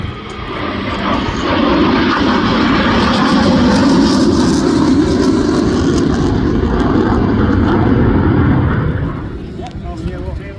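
Display aircraft roar overhead in a flypast at the Midlands Air Festival, a loud sustained engine rumble that swells and holds for most of the stretch before easing slightly, with a crowd and commentary mixed in.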